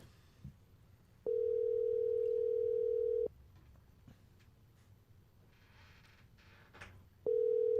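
A steady telephone ringback tone on an outgoing call during a live talk show: one long ring of about two seconds, a pause, then a second ring that begins just before the end, loud and clean over faint background noise.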